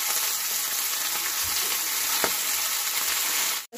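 Fish fries in hot oil on a stove with a loud, dense, continuous sizzle heard close up, marked by a couple of faint taps, before the sound cuts off abruptly at the end.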